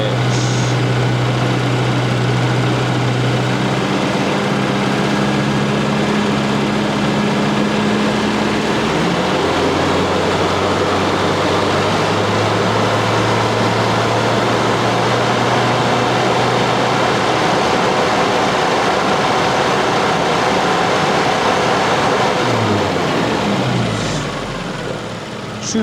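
A car engine idles steadily while its ignition timing is set to about 14 to 15 degrees. It runs loud and continuous at close range, its pitch shifting slightly as the timing is adjusted, with no talk over it.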